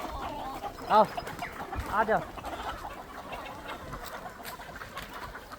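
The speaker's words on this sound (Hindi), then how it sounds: "अभी सब जितनी मुर्गियां है ना सब बाहर आ रही है" Hens and roosters coming out into a garden give two short, close clucking calls a second apart over steady outdoor noise, while a man calls to them.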